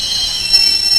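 A London Underground tube train pulls into a platform with a loud, sustained high-pitched wheel squeal over a constant rumbling roar.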